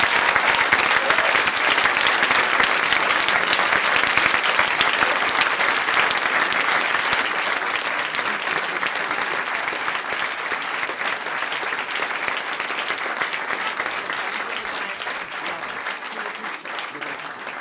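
Sustained applause from a school audience for English theatre performers, dense and loud, filling the room with continuous clapping that slowly tapers slightly in intensity over nearly eighteen seconds.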